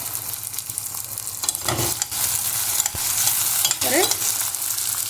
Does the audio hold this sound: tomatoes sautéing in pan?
yes